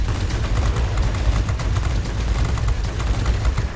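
Heavy cannon and machine-gun fire in a flight combat game, the Me 410's 30 mm cannons and guns hammering away in a dense, continuous loud stream of rapid shots for the whole stretch.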